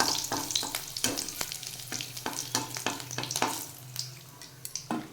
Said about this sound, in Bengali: শুকনো লঙ্কাগুলো একটু ভাজা ভাজা হলে